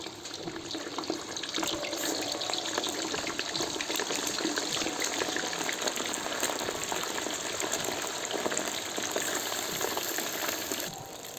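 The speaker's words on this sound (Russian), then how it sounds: "Теперь, не торопясь, по одному куску опускаю в казан мясо." Meat pieces sizzling in hot oil in a kazan for plov, a loud, steady, dense hiss and crackle that holds evenly throughout with no voices.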